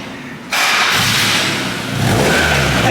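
An EG hatchback with 39K miles on its first startup after work on the exhaust: the engine catches abruptly with a loud roar, holds a harsh rev, dips briefly, then climbs again, close and dominant.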